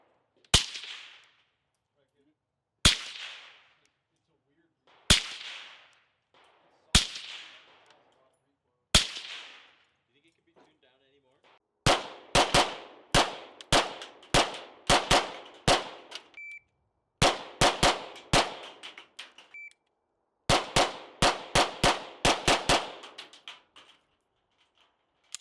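Suppressed Ruger 57 pistol firing sharp, cracking gunshots: five evenly spaced single shots, then three fast strings of rapid fire, each report close and loud with a short ringing tail.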